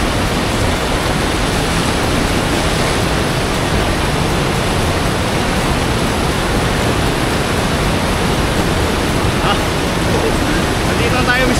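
Rushing river water pouring over the Dipalo River dam, a loud, constant broadband roar of falling water close by, unbroken for the whole stretch.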